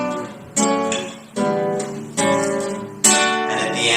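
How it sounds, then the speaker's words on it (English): Hymn-like suspended chords on guitar, four strummed chords each ringing out and fading before the next, close and clear with no voice. "if you've ever heard some of the hymns they sing in church, that sounds something like this"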